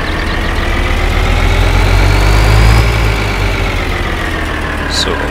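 A Scania R420 truck in a farming simulator game pulls away, its diesel engine droning low and steady close up as revs rise and then ease off, with a faint high whine above the rumble.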